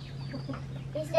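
A hen gives a few soft clucks at close range over a steady low hum, brief and fairly quiet.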